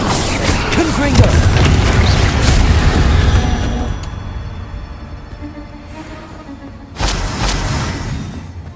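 Confringo fire spell exploding in Hogwarts Legacy, heavy booming blasts with crashing debris over busy combat noise, quieting midway before another loud burst erupts near the end.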